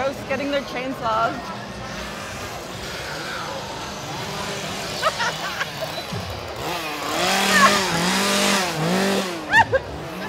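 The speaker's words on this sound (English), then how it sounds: "Where are these ghosts getting their chainsaws?" Revving chainsaws at a ghost-themed Halloween scare zone at Universal Studios Hollywood, buzzing engine whines rising and falling amid loud crowd noise and screams, with people talking throughout.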